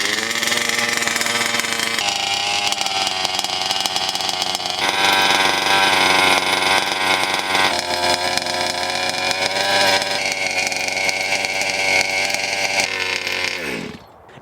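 A large-scale RC truck engine runs very loud and near for the whole stretch, a steady buzzing drone whose pitch shifts at each throttle change before cutting off abruptly at the end.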